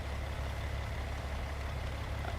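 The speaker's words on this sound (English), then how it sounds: "it's a bulldozer engine from CAT" A Caterpillar bulldozer engine idles in a steady, low rumbling drone, even and continuous throughout with no voices.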